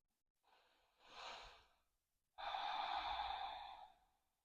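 Two deep breaths during a yoga hip and hamstring flow, a softer inhale followed by a long, louder, airy exhale, close and alone with no talking.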